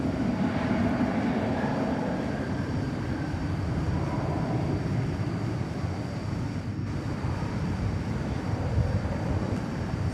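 Airplanes at DFW Airport on a busy Tuesday night give off a steady, distant jet roar over a broad rumbling wash that holds level throughout, with no talk.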